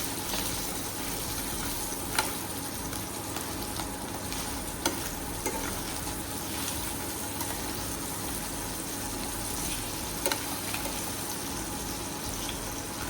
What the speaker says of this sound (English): Since I have 2 chicken breasts left over, I'll also be frying them.